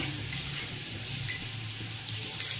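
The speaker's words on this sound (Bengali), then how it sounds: "বাটারটা মেল্ট হয়ে গেছে। এবার আমি গার্লিকটা দিয়ে দেব।" Crushed garlic frying in melted butter in a pan gives a soft, steady sizzle with faint crackles and a couple of brief clicks. The sizzle runs unbroken for the whole stretch.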